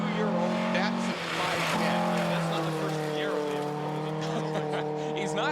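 A 22-year-old Datsun 510 rally car races through a forest rally stage, its engine revving loudly and steadily with shifting pitch, mid-distance and sustained.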